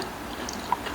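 Close-up wet crunching and chewing of spicy jellyfish salad, a soft steady mouth sound with a few sharper crisp bites, no talking.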